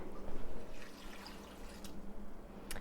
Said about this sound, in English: I'm just going to add 2 pints of hot water to my crock pot